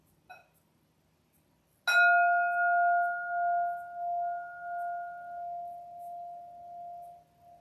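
A meditation bell is struck once, ringing out clear and full, then hums on in a long, slowly fading sustain with gentle pulsing; soft silence comes before the strike and no one talks.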